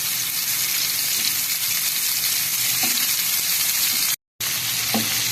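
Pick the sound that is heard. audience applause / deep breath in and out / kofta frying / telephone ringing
kofta frying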